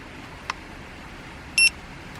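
A short, sharp electronic beep from the set button of a tire pressure monitoring system on a vintage car, preceded by a faint click, against quiet room tone.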